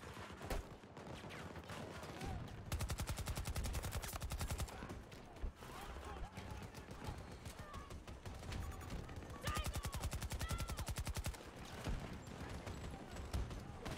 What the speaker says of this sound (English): I bet those guys hate when I shoot them